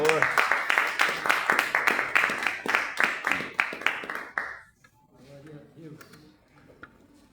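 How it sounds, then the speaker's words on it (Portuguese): A church congregation claps together in a loud, even rhythm, about three claps per second, then the clapping stops abruptly and quiet, faint sounds follow. "Você pode aplaudir ao Senhor"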